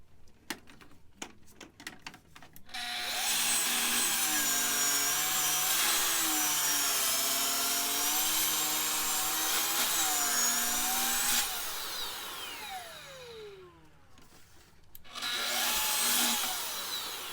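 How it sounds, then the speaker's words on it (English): King Starboard plastic sheet being cut with a power tool while the chips are contained, a loud whining cut with pitch changes, preceded by clicks and ending with a short pause and resumed cutting. "trying to contain the bulk of the plastic as it's being cut."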